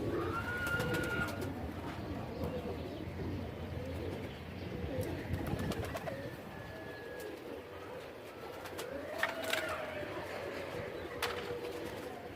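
Pigeons coo repeatedly in soft rounded phrases, with occasional chirps and faint rustling from nearby birds, no voices heard.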